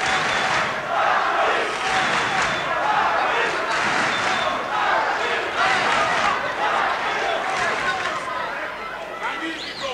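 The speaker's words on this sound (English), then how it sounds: "And this French crowd really doing their best to lift Benichou." Boxing crowd at a French title fight roars steadily for the home boxer, a dense, continuous wash of cheering and shouting that stays loud throughout, with a commentator talking over it.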